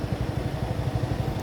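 Motorcycle engine chugging steadily close by with a low, regular pulsing beat, no voices over it, on a site where soil is being loaded onto a dump truck.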